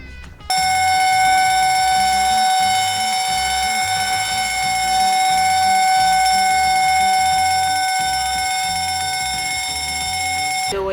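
A mega siren used as an alarm clock blares loudly and continuously at close range, a piercing steady tone that holds unbroken for about ten seconds.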